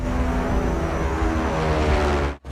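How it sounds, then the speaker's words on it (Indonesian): A reconnaissance drone in flight over a military attack site gives a steady, loud engine drone that holds evenly, then dips briefly near the end. "Mereka juga menerbangkan drone pengintai ke lokasi serangan"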